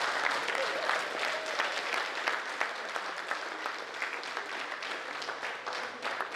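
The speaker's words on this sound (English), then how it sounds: "I think I deserve another applause." Steady applause from the room at a university vice chancellor's media briefing, a dense patter of many hands clapping continuously at moderate volume for several seconds.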